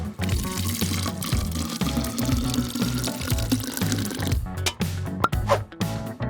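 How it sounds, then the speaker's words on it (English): Soda pouring steadily into an empty plastic bottle filled with water beads, a continuous loud splashing gush that runs throughout and turns more broken and gurgly near the end. "Just add soda."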